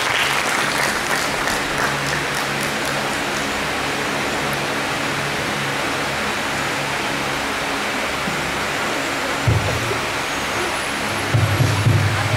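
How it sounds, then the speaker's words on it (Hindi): An auditorium audience claps steadily for Dr Navin Chandra Joshi at a lecture on Ayurveda and health tourism, a broad, even wash of applause that holds for the whole stretch, with a couple of low bumps near the end. "तालियों से स्वागत डॉक्टर नवीन चंद्र जोशी।"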